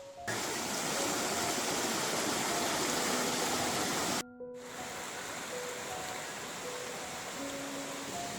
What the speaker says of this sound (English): Pretty little creek.